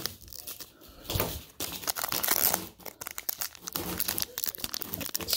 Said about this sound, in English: Why is it so hard to open up packs?